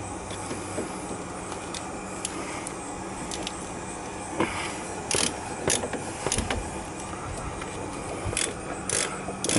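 Ratchet clicking in short bursts while tightening the front wheel bearing bolts on a 2003–2007 Saturn Ion, with scattered metallic clicks and taps over a low workshop background, fairly close.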